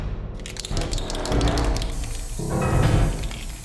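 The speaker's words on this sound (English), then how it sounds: "All that remains now is for us to protect the miniature with some matte varnish." An aerosol can sprays matte varnish over a painted miniature, producing a steady, close, loud hiss that keeps going for several seconds with slight pulsing in intensity.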